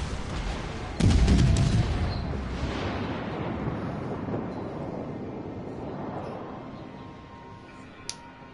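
Heavy warship guns fire in World of Warships, a sudden loud broadband blast at about one second followed by a long rumbling decay and a steady roar of battle noise, with a faint sharp crack near the end.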